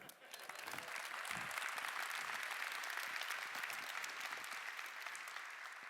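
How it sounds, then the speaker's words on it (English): Sustained applause from a large conference audience at the PyCon 2017 keynote, a dense steady wash of clapping that holds at full strength throughout. "you guys should clap for that"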